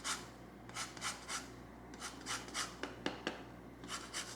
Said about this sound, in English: We're gonna zest about a teaspoon of lemon into this.